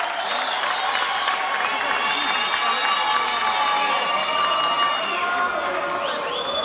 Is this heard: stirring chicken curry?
no